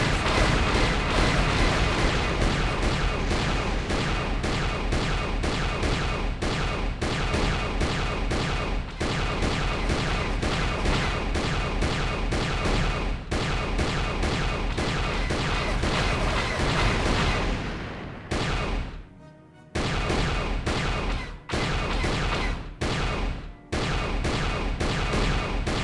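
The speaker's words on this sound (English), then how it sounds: "Incoming fire!" Incoming weapon fire in the Star Wars: Knights of the Old Republic video game, a loud, sustained barrage of rapid blasts and booms, briefly dropping out near the end before resuming.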